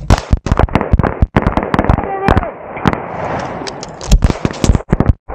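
Rapid, loud gunshots crack out in quick bursts during a tactical shooting drill at a Green Beret range day fundraiser in Pennsylvania, with shouted commands between volleys.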